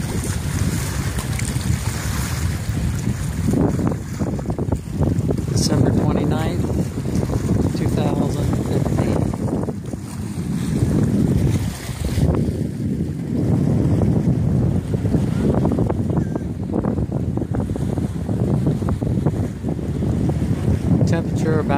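Breezy weather at Fred Howard Park by the water, with steady strong wind buffeting the microphone and waves washing beneath, and someone talking intermittently over the gusts.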